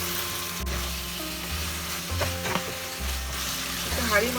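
Vegetables tossed into hot oil with fennel seeds sizzle steadily up close, with intermittent stirring scrapes and a low background hum throughout.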